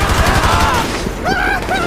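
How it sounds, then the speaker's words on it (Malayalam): Rapid gunfire rattles through a video game meth lab mission, loud dense bursts of shots with a voice talking over the fighting. "ഇവന്മാരെ എല്ലാത്തിനും വെടി വെച്ച് കൊല്ലണം"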